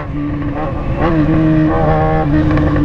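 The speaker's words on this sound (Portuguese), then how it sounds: "Essa é minha XJ6 é uma moto zica, moleque." Yamaha XJ6 motorcycle engine and exhaust, a loud, steady droning rumble with a rising rev partway through, heard close by and continuing throughout.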